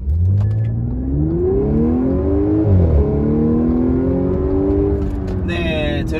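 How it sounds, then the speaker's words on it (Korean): A 2016 Audi S4 3.0 TFSI quattro accelerates hard from 0 to 80, its supercharged engine and exhaust rising in pitch through a gear shift, then climbing again in a loud, close in-cabin roar with brief crackles near the end. "변속이 될 때마다 빠라락 빠라락 빠라락 하면서 이 그 특유의 배기음을 또 이 표현을 해내주고 있는데요"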